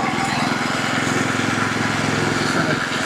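A lawn mower runs steadily and loud in a grassy yard with a putting green, its engine drone continuous and close throughout, with faint voices mixed underneath.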